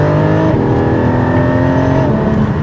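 Porsche 718 Cayman GT4 engine revving high, a loud, close, sustained mechanical howl whose pitch climbs with the revs, shifting tone briefly before pulling on, with no talking over it.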